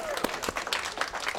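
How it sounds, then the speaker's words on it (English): Brief crowd applause for an older woman volunteering at a sword swallower's show, a quick burst of scattered claps at moderate distance with voices faintly mixed in. "Let's give her a nice round of applause."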